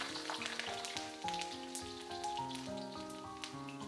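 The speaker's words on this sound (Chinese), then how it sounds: "再把蒜子给倒进来，" Garlic cloves and fermented black beans dropped into hot oil in a wok, a soft continuous crackling sizzle with scattered pops, under a steady tonal background of music, no talk.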